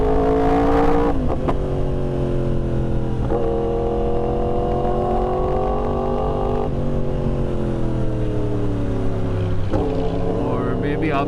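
Yamaha R1 superbike with a crossplane engine riding at night, its loud, steady engine note rising and falling through several gear changes and shifts in pitch, close to the bike throughout.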